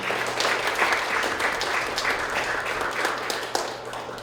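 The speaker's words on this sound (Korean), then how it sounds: "다시 한번 큰 박수 부탁드리겠습니다" Steady, moderately loud applause from a lecture audience after a talk on constitutional social rights, with many hands clapping continuously for about four seconds.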